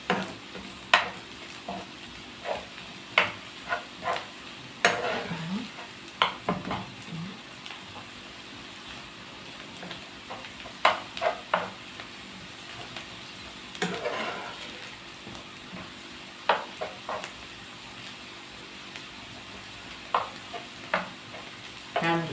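Onion fries quietly in a pan while a spoon stirs it now and then, the soft sizzle punctuated by scattered clicks and scrapes against the metal.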